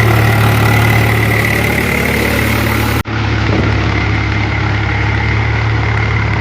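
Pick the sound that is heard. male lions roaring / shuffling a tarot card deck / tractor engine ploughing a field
tractor engine ploughing a field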